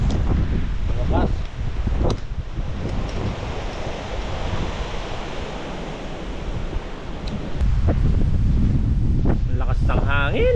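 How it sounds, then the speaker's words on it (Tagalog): Strong wind buffets the microphone on a mountain road route, a loud gusty roar that rises and falls, with people talking over it. "Lakas ng hangin."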